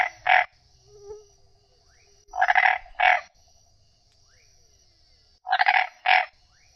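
Frog croaking in three paired bursts spaced a few seconds apart, loud and close, with faint chirps and a low rumble between calls.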